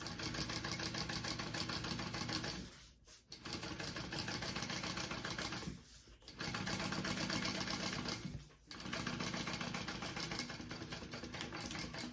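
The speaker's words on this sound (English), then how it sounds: "And I'm top stitching on the lining piece." Sewing machine topstitching the lining of a crossbody bag: a steady fast mechanical whir in long runs, broken by three short pauses, close and even, with no voices.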